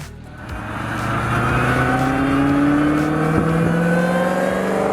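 A 2023 Dodge Hellcat SRT muscle car engine revs up from a low rumble into a loud, sustained roar, its pitch climbing steadily with a slight tire squeal as it accelerates nearby.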